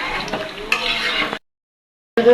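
A spice paste is stir-fried in a pan, giving a close, loud sizzle with scraping stirs that stops abruptly, followed by a short silence before the frying sound briefly returns.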